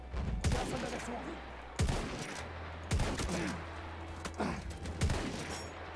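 Light machine gun fire crackles through a Battlefield 1 match on the Verdun Heights map, coming in several sharp, separate bursts over a low rumbling background, with faint voices underneath.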